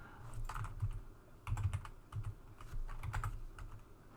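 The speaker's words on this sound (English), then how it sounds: "And I totally can't type," Typing on a computer keyboard during a programming lecture: quiet, irregular bursts of key clicks with short pauses, faint and close, with no talk over it.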